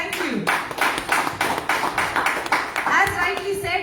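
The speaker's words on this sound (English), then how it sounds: "Congratulations, a round of applause" Audience clapping at an LG product launch event during a festival sale in a Mangalore store, heard as a run of quick, rhythmic hand claps in short bursts, with people talking over and between them.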